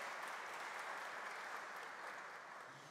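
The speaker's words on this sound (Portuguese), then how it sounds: "Tuninho, por favor, uma salva de palmas." Audience applause at a formal ceremony honoring victims of political violence, a steady wash of many hands clapping throughout, fairly distant and tapering slightly at the end.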